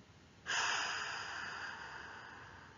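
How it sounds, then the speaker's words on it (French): A long, steady exhale released in a sudden rush after a held breath during a sophrology relaxation exercise, soft and breathy, slowly fading over a couple of seconds in a quiet room. "Puis, expiration."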